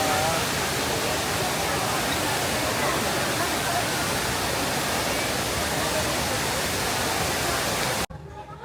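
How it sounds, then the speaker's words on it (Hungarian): The world's tallest indoor waterfall at Singapore's airport pours down in a dense, continuous roar of falling water, loud and unbroken, ending abruptly near the close. "Rögtön kezdem a világ legmagasabb beltéri vízesésével."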